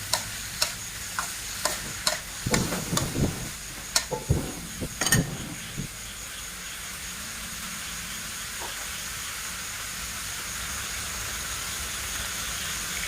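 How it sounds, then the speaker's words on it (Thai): Fish balls and bamboo shoots being stir-fried with garlic in a pan, with a run of sharp spatula scrapes and clacks over a sizzle for the first few seconds, then a steady quieter hiss alone. "ผัดให้เข้ากันนะคะ ไปทั้งลูกชิ้นแล้วก็หน่อไม้มีกลิ่นหอมกระเทียมนะคะ"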